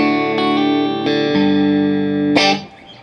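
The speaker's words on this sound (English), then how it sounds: "it sounds great, clean. It's got that nice like jangly spank kind of a sound" A G&L Tribute Doheny electric guitar rings out with a bright, jangly clean tone: a few loud strummed chords and notes sustaining evenly, with a final strum that decays away near the end.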